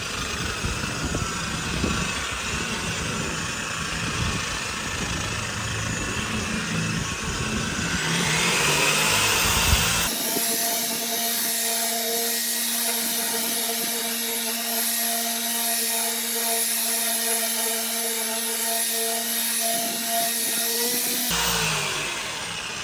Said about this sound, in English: you're gonna turn your buffer on low